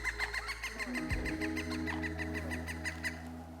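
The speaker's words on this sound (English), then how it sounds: "Woodpecker." A woodpecker's rapid, evenly spaced knocking calls repeat steadily over a low, constant mechanical hum, with no one speaking.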